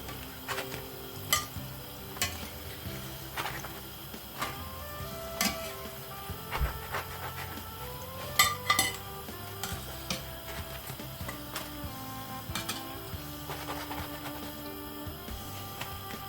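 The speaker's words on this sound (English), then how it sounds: "I finished frying the donuts." Doughnut dough sizzles and crackles steadily in hot oil, with occasional clinks and scrapes of a utensil, a continuous moderate frying sound with no talking.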